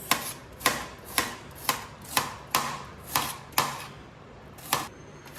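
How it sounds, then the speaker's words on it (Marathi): A knife chops onion on a home kitchen board in a steady run of sharp, crisp taps about two per second, close and clear, with a brief gap before the last few strokes and no talk. "बस चल झाला का तुझा कांदा कापून"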